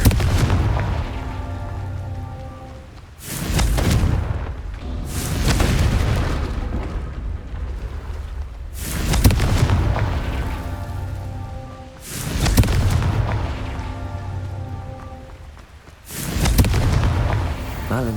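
Confringo blasting spells in Hogwarts Legacy, a series of heavy booming explosions, about five loud blasts spaced a few seconds apart, each trailing into a rumbling decay.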